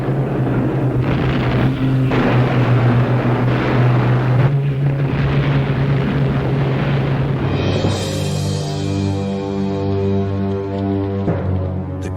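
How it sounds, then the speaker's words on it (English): Low droning aircraft engines from the World War II era, a steady rumble that shifts into a rising, whining tone midway, loud and continuous with wind-like noise and no talk. "They were remorselessly harried by Allied aircraft and artillery."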